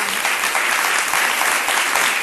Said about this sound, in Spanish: Bien, un aplauso muy grande para la doctora.